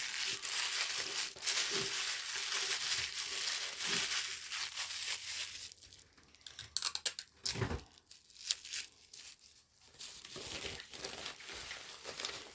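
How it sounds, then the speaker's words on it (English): Tissue paper is crumpled and crinkled up close while painted rocks are packaged, giving a continuous rustling that thins into scattered crackles and brief pauses midway. "Tissue paper."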